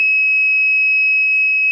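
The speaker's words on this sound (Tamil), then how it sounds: "பஸ்ஸர் சவுண்ட் வர ஆரம்பிச்சிருச்சு" A buzzer on an Arduino MQ-135 air quality sensor circuit sounds a steady, loud electronic tone that holds without a break for the whole stretch, starting just after a brief soft noise.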